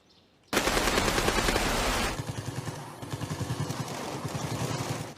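Automatic rifle fire erupts abruptly after a brief quiet moment, first a dense continuous burst, then a rapid pulsing stream of shots that keeps going, loud and close with no voices.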